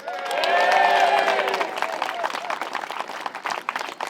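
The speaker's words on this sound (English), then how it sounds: "Give yourselves a cheer." An audience at a Young European Movement event cheers and applauds, a loud burst of crowd noise with whoops that settles into sustained clapping.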